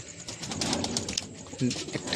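Caged pigeons coo softly nearby, low throaty calls rising and falling, with a person talking over them.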